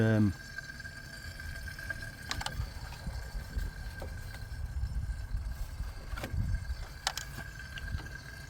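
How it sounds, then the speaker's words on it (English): A car's cooling system bubbles and gurgles under the open bonnet of a non-running car, a low, irregular liquid churning heard close up over a noisy background. "I think it's the cooling system."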